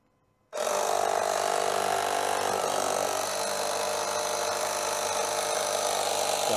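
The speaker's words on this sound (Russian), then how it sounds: "И включаем компрессор." Air compressor switches on abruptly and runs loud and steady, feeding a smoke machine for a leak test on a car's intake system, with a broadband mechanical roar continuing without a break.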